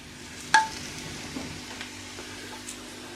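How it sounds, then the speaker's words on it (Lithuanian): Garlic and ribs fry over high heat while a utensil stirs them in a pan, opening with a sharp metallic clink followed by a soft, steady sizzle and occasional light scrapes, close by. "Jeigu ant didelės ugnies, tai pastoviai reikia maišyti, kad nepridegtų."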